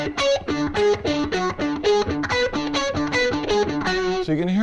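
Heavily distorted electric guitar runs a fast pedal-tone lick, returning to a low D between other notes in an even rhythmic pattern, loud and unaccompanied.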